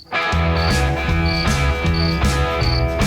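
Loud, continuous mole cricket chirping with a rapid, buzzing trill, repeating in steady pulses, very close and without any talking.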